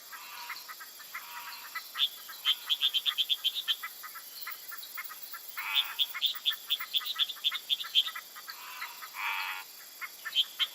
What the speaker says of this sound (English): the cicada and all the different sounds of the forest animals